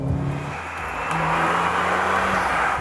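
A Mercedes-AMG GLA35 engine revs hard under acceleration toward redline, a loud, continuous rising drone with steady road and wind noise behind it.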